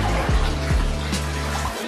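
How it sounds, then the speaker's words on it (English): A submersible pump pushes water through a pipe, producing a continuous rushing, splashing flow with a low hum underneath and a couple of brief gurgling surges. "So this submersible pump is connected now here to the pipe"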